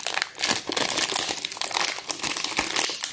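Plastic packaging on a Sylvanian Families toy chair is ripped open from the top, giving a dense, close burst of crinkling and tearing that carries on steadily throughout.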